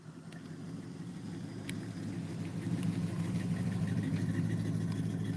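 Car engine idling at an outdoor car show, a steady low rumble that grows slightly louder partway through, with faint clicks and background noise and no talking.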